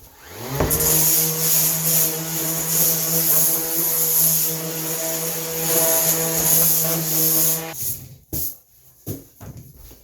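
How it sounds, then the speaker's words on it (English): A power sander knocks burrs off wood during a display case restoration. A loud, steady motor drone with a buzzing whine fills nearly eight seconds, then cuts off, and a few close knocks and handling sounds follow. "I forgot to take the sander and get these burrs off this wood."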